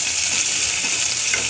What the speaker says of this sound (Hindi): कद्दूकस किया हुआ लहसुन, कद्दूकस किया हुआ अदरक, इसको अच्छे से 2 मिनट के लिए मैं सॉटे कर लूँगी